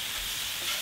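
Vegetables stir-frying in a pan give a soft, steady hiss and sizzle, close but fairly quiet, over a short stretch with no voices.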